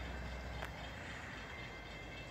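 Sperry rail service car passing through Wallingford station at night, heard as a faint, steady broadband rail rumble with a brief higher tick early on, distant and continuous with no talking.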